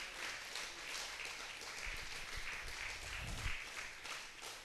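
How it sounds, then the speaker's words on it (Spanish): Faint, distant congregation applause during a church teaching service, a soft continuous wash of many hands clapping with no voices over it. "Brindar un aplauso al Señor, que Él se lo merece"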